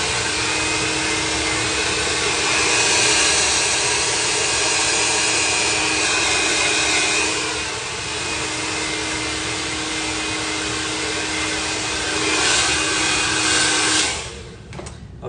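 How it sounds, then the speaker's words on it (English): Electric hair clipper buzzing steadily during a self haircut with a half guard, a continuous close whine with slight swells in loudness that cuts off near the end. "my clipper came with this sort of half guard, and this is really good of transitioning out of the no guard clip"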